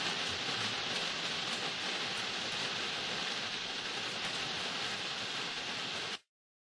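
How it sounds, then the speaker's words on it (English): Steady rain falls on a hiking trail, an even, dense hiss of drops close around, continuing without pause before cutting off abruptly at the end. "rain starts coming down"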